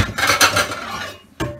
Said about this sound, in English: Put in the skillet.